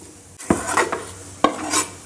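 Meat stirred into softened vegetable sofrito in a pan over medium-high heat for lasagna, giving close scraping and clinking stirring strokes over a faint sizzle, with two sharper spoon knocks.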